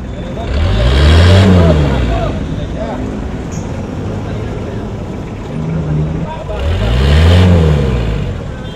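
A vehicle engine idles and is revved twice for an emissions opacity test, each rev swelling loud and falling back to a rough idle, close to the listener, with people talking during the clip.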